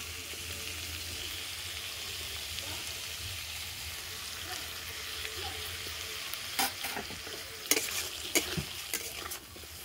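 Potatoes sizzle steadily in a hot pan with spices and ginger paste, and a spoon stirs them in a few close scraping clinks near the end, while soft voices murmur in the background.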